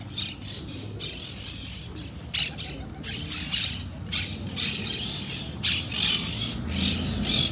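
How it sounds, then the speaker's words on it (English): Small green parrots screech in a city park in Asunción, Paraguay, among many pigeons, giving repeated harsh, chattering squawks in overlapping bursts over a steady outdoor hum. "you see these cool little green parrot things?"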